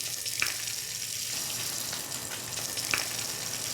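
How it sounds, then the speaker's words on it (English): Steady close-up sizzling and crackling of sea bass frying in butter in a pan, with a couple of faint clicks. "That's a good sizzle."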